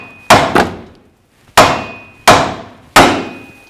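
A hammer strikes the steering knuckle of a 2000-2006 Chevy Tahoe five times, loud ringing metallic blows in an uneven rhythm, a quick double hit followed by three evenly spaced strikes, each with a short ring.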